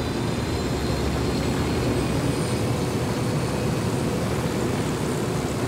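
A helicopter roars steadily in Ghost Recon Wildlands, a loud, constant, dense engine and rotor wash that fills the whole stretch with no breaks and no talk.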